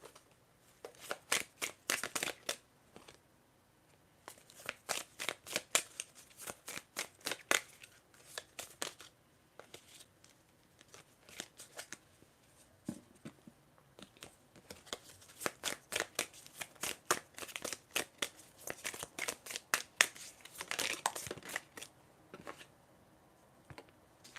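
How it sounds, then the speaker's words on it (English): A deck of oracle cards is shuffled by hand in repeated bursts of crisp riffling and flicking, close and fairly quiet, with short pauses between runs and no talking. "I'm going to shuffle to get more oracle cards for you"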